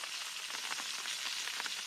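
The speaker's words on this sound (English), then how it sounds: "the raindrops on the tarp" Raindrops patter on a tarp over a wilderness campsite while walleye fry nearby, a fine, steady hiss of dense tapping with soft crackling, moderately quiet and unbroken.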